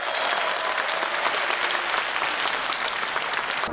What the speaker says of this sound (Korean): 열렬한 환호가 이어지고